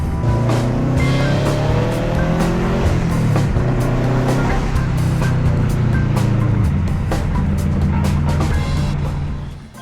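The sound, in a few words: driving a classic car, the Legacy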